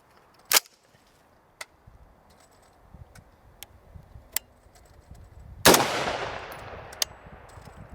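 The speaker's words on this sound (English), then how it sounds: "we're gonna confirm the zero now because Joe shot the absolute shit out of it" Rifle shots ring out at a range while a PEQ-15 laser's zero is checked: a few sharp, loud cracks spaced apart, one followed by a long decaying echo, with quieter clicks and handling noise between.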